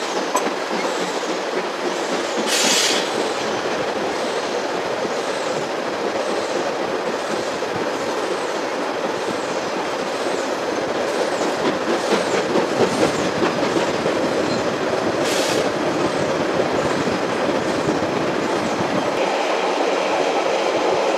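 Freight wagons carrying gold-bearing concentrate roll past in a steady, loud rumble with rhythmic clickety-clack from the wheels over rail joints and occasional brief metallic squeals.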